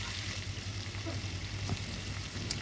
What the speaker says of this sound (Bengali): তো ওই তেলেই আমি চিংড়ি মাছ দিয়ে দিলাম, দিয়ে চিংড়ি মাছটাকেও ভেজে নিচ্ছি।